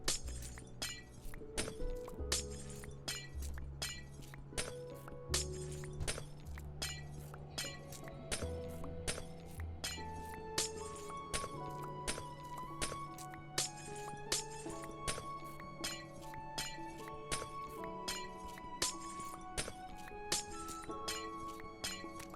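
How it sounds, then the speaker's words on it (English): Glass is repeatedly broken in a video game, with bright clinks and shattering crashes recurring every second or so over steady background music with bass and melodic notes, no talking. "Just breaking glass and listening to tunes."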